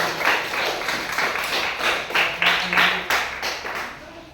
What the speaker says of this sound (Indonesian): beri tepuk tangan dulu untuk kelompok lain